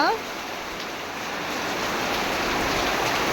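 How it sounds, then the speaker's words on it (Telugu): Heavy rain pours down steadily during milking time on a farm, a dense, loud, continuous hiss that builds slightly and stays constant, with a brief voice at the very start. "మామూలు వర్షం కాదు బీభత్సంగా కొడుతుంది"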